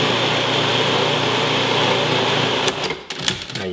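An electric mixer whirs steadily while mixing chocolate tart dough, a loud continuous motor drone that cuts off near the end, leaving a few soft clatters and bumps.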